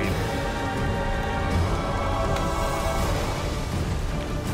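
Steady rain falls in the video game The Witcher 2: Assassins of Kings, a dense, constant hiss of downpour filling the scene without pause and with no voices.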